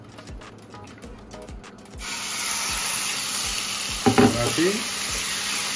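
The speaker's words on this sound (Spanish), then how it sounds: "Que chille el pollo." Chicken pieces drop into hot rendered bacon fat and burst into a loud, continuous close sizzle after a quiet opening of faint clicks, with a short spoken word over the frying.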